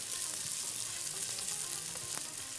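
Onions sautéing in a pan for rice, a dense steady sizzle with faint stirring taps underneath, close and uninterrupted with no speech.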